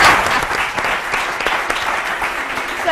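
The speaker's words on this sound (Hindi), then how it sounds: "तालियां तो बनती है भाई" A studio audience on a weekend television talk show breaks into loud, sustained applause, many hands clapping continuously and close throughout.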